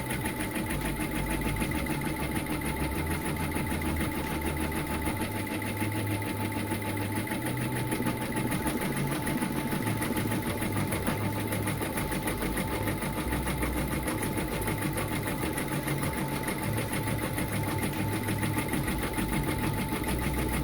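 A sewing machine stitches a fabric trifold zipper pouch key chain wallet in one long unbroken whir, with a steady fast needle rhythm and a low motor hum at moderate level.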